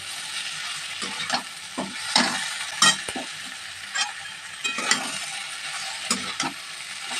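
Ghetkochu being stirred in a pan with turmeric and Kashmiri chili powder, a steady sizzle broken by repeated scraping strokes of a spatula, close and loud with no talk.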